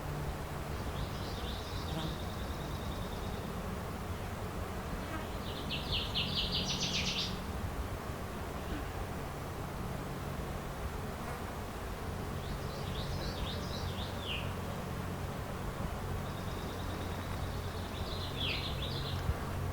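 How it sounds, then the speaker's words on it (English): Several airy, downward-spiraling thrush calls repeat at intervals over steady outdoor background noise, fairly distant and moderately faint. "That ryu or ryu, that's a Veery call"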